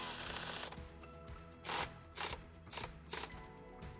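Self-tapping screws go into the tow hitch wiring on a 1984 Volkswagen Transporter, heard as a few short, sharp mechanical bursts from a ratcheting driver after a steadier whir, near and fairly quiet.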